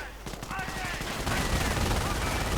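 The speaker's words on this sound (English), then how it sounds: "Getting stuck by the MG right there." Machine gun fire in a 1v1 World War II strategy game, heard as rapid rattling bursts that rise in density and then hold as a continuous distant-sounding barrage, with battle noise beneath.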